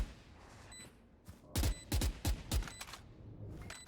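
Bursts of automatic gunfire spray in a tactical esports shooter match, four or five sharp, loud rapid volleys clustered together amid quiet ambient game sound.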